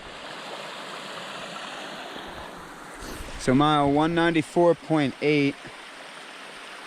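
Stream water rushes steadily beside a gravel road on the Pacific Northwest Trail between the Yaak and Bonners Ferry, Idaho, a constant wash that continues as someone talks briefly over it.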